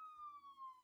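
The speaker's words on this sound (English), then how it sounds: "Can anyone else hear a siren? It's the police!" Police siren in a video game, a single clean, sustained tone falling slowly in pitch and heard alone, fairly faint.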